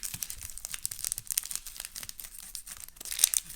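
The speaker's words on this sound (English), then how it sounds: "we're going to take our onion, and we're just going to, where we scored, we're just going to peel it" A scored onion has its dry papery skin peeled off by hand, giving soft close crinkling and small tearing rustles in irregular bursts.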